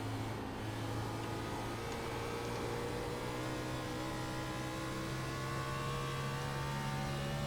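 NASCAR race car engine in the iRacing sim at The Rock, a steady sustained drone at constant revs, close and continuous with no talk.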